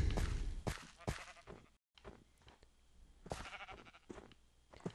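A few short bleats of a sheep in Minecraft, fairly faint, with a brief pause of silence in the middle and no talking.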